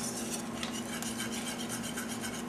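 A whisk scrapes and stirs brownie batter in a bowl with a quick, steady rubbing rhythm, close and fairly faint.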